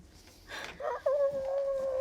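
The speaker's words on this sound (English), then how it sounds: "there's a rooster crowing outside" A rooster crows nearby in a single drawn-out call: a short rough burst, then a long, steady, slightly rising note that carries to the end, with no talk over it.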